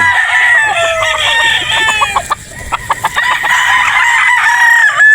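Boston Gray gamefowl rooster from a game farm, heard loud and close: a long crow, then a quick run of clucks and clicks, then another drawn-out crow toward the end.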